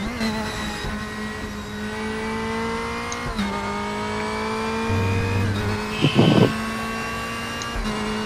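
BMW DTM race car in the RaceRoom racing game, played in VR with a wheel, holding a steady loud engine drone with a shift dip near three seconds and a brief tire squeal or skid burst toward the end.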